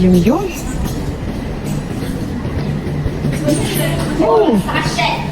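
A Guangzhou metro subway train rumbles with a steady low drone and rail noise, with rising and falling squealing tones near the start and end, and people talk over it.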